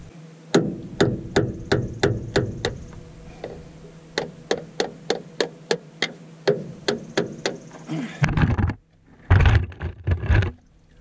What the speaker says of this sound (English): you just take a hammer and you slam it through the filter